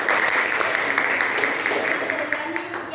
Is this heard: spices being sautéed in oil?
no